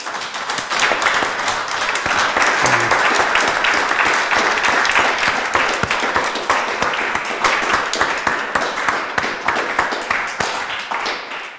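Sustained, dense applause from a lecture audience at the end of a talk on artificial intelligence, many hands clapping loudly and steadily for over ten seconds with no speech.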